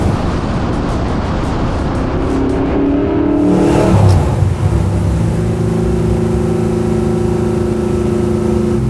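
A 355 ci Chevy Chevelle sleeper's V8 engine accelerates hard, close and loud, the rising roar dipping briefly at a shift before pulling steadily upward again.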